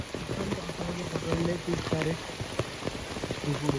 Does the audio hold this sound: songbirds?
no